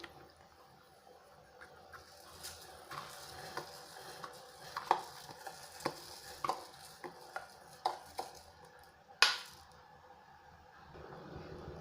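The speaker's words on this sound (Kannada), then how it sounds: "ರೈಸ್ ಆ್ಯಡ್ ಮಾಡ್ತಾಯಿದ್ದೀನಿ" Rice poured into a pot of boiling saffron water for sweet rice, with scattered light clicks and scrapes over a low bubbling kitchen background, including one sharper clatter near the end.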